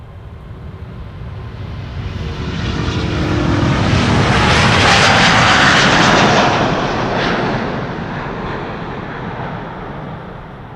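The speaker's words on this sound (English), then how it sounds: "And that's the first A350 of the show." An Airbus A350 departs Amsterdam Schiphol Airport, its broadband jet roar swelling steadily to a loud peak mid-pass and then fading as the aircraft climbs away, with no voices.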